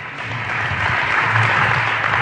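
An audience gives a brief, loud round of applause as a volunteer is welcomed onto the stage, a full burst of clapping with a low murmur beneath.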